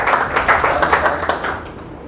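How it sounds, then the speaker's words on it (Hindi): An audience claps at a motivational speaking event, a steady patter of hands with irregular sharper claps, loud and close, with no speech. "ज़रा इनके लिए भी तालियां बजा दें"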